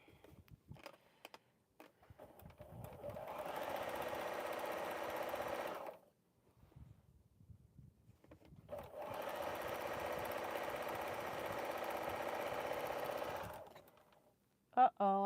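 A sewing machine runs without bobbin thread in two long, steady stretches separated by a short pause, at moderate level and close by.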